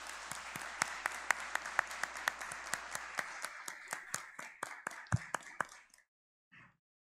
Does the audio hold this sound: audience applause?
yes